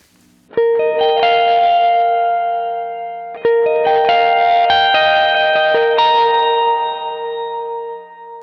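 Electric guitar run through a Brave effects pedal on a pedalboard: two strummed chords ring out with bright, sustained, shimmering overtones, each fading slowly before the next, loud and alone.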